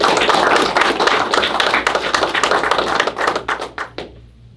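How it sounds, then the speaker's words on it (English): Audience applause at an Orange Shirt Day game announcement, a loud, dense burst of many hands clapping that thins into scattered claps and fades out. "I'd like to give a big round of applause to our partners."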